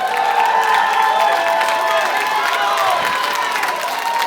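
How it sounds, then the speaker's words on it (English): Wrestling-show crowd in Campbellton cheering and shouting loudly and steadily throughout, a dense roar of many voices filling the whole stretch. "Simpletons in Campbellton cheering for that cheating"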